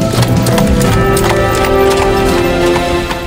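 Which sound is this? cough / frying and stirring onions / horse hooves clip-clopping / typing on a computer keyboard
horse hooves clip-clopping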